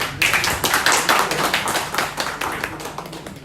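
Audience applause at a Nepali community anniversary celebration in Macau, a dense burst of many hands clapping that stays loud and steady before thinning slightly toward the end.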